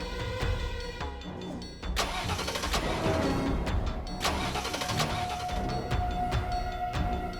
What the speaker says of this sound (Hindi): ये गाड़ी स्टार्ट क्यों नहीं हो रही है?